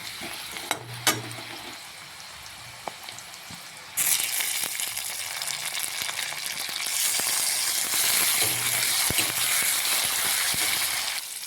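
Onions fry in a pan until they turn brown, starting with a quieter sizzle and a few clinks and taps, then swelling into a loud, steady, close frying hiss with stirring, and no voices.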